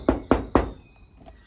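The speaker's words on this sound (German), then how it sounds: "Ja, ich kann klopfen." Three sharp knocks on a door in a house, evenly spaced and close, followed by faint room noise.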